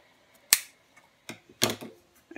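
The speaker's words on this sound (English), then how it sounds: "you can go back and trim that twine if you want to" Scissors snipping twine on a Dollar Tree Christmas craft, a few sharp close cuts: one crisp snip, then a pair of quick clicks, with quiet pauses between.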